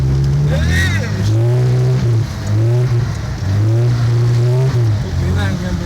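A Lada 2105 drifting with loud, wavering engine revs rising and falling continuously, close and dominant, with occasional speech over it.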